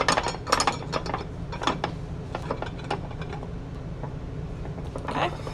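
Metal ring clamp tightened onto a laboratory ring stand, giving a run of short ratcheting clicks and scrapes at close range, fairly quiet, with a pause in the middle before more clicks.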